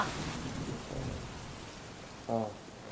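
Heavy rain hisses with a low, soft rumble of thunder underneath, heard quietly at a distance, while a voice briefly speaks toward the end.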